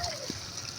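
Water splashes in a pond as young girls use their feet to catch fish, with light splatters close by and children's voices talking over them.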